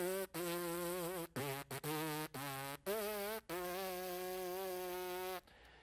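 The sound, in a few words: Happy Birthday buzzed with the lips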